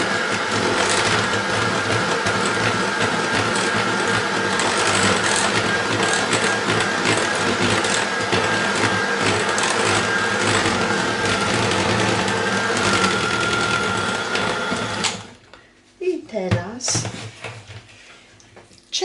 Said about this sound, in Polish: I ciasto dokładnie mieszamy.